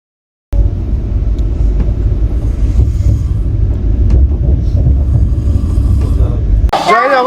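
Passenger train running late toward Kharagpur, a loud continuous low rumble of wheels and carriage heard from inside, steady throughout, with a brief louder rattling burst near the end.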